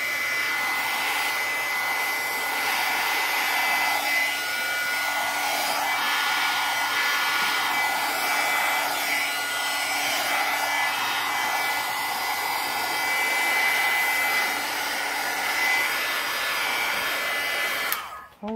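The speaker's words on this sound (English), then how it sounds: "as it burns, you move the heat tool so it can continue to burn" A handheld heat tool blows a steady, loud rushing hiss close by for the whole stretch, used to burn the edges of paper for a lemon-themed mixed media junk journal, then cuts off abruptly at the end with no talk.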